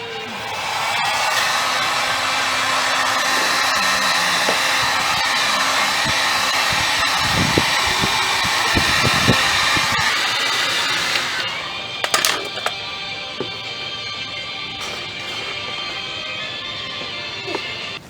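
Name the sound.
heat gun heating a RAV4 body part to bend it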